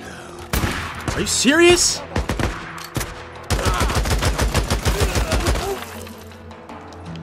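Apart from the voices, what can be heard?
gunfire in the video game Days Gone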